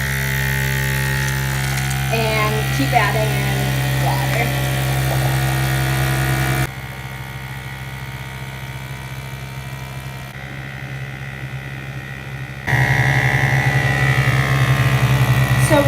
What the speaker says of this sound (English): And then turn on the vacuum